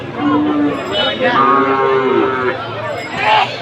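A crossbred heifer calf at a cattle market lows loudly and close, a drawn-out moo rising and falling, with a shorter call near the end over faint background chatter.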